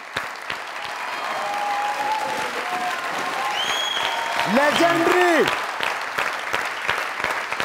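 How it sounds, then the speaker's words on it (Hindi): Audience applause at a glamorous celebrity awards event, a sustained wash of clapping from a large crowd while a host speaks over it on a microphone, with brief music cues rising midway. "जोरदार तालियां।"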